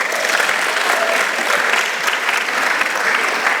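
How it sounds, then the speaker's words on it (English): Audience applause at the Sankofa Arts Festival 2025, a dense, steady wash of many hands clapping throughout, loud and sustained with no gaps. "Can we give them another round of applause?"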